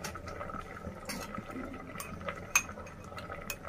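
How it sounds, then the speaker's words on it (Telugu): A utensil stirs tomato into a bean and lentil curry in a pan with soft scraping, faint clinks and one sharper clink, all quiet and close without talk. "ఇప్పుడు మనం టమాటా వేస్తున్నాము. దీన్ని కలుపుకోవాలి."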